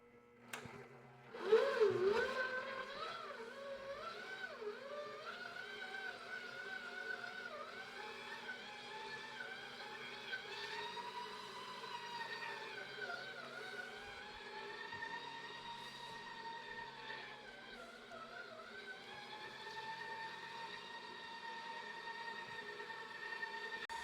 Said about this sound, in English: It's been kneading about 6 minutes now, and I notice the motor speeds up and slows down a little bit.